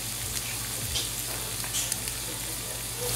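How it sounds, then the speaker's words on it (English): A shrimp and crab Alfredo sauce simmers and bubbles softly in a pan, a steady close sizzling hiss with a faint low hum beneath and no speech. "we're just going to let that simmer for a minute"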